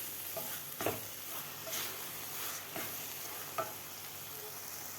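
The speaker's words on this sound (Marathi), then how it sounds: "वेलची पूड टाकल्यानंतर सुद्धा आपल्याला व्यवस्थित मिक्स करून घ्यायचं आहे." A spoon stirs carrot halwa in a pan after cardamom powder goes in, giving soft scraping strokes every second or so over a faint, steady sizzle with no talk.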